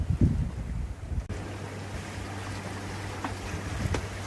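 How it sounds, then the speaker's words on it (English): A sailboat runs downwind in steady wind with the breeze about 30 degrees off the stern, giving a continuous wash of wind and water noise with a low steady hum and occasional soft knocks, close and moderately loud, with no talking. "We're heading downwind with the wind 30 degrees off of our stern"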